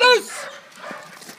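A dog named in a home setting gives a short, loud yelp or bark at the very start, followed by quieter background noise and faint voices.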